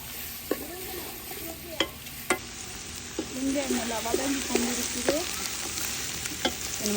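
Onions and tomatoes sautéing in a pan for shrimp biryani give a continuous close sizzle, broken by several sharp clicks of a utensil against the pan and a stretch of busier stirring, with no talk.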